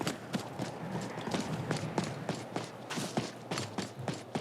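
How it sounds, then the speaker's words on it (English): Horse hooves clip-clop steadily in Skyrim, a regular rhythm of distinct hoofbeats at moderate distance over a constant background bed of wind and ambience. "Gorgeous horse."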